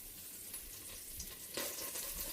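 Pork chops searing in avocado or vegetable oil in a skillet, a quiet steady hiss of sizzling that brightens and grows slightly louder toward the end, with no voices.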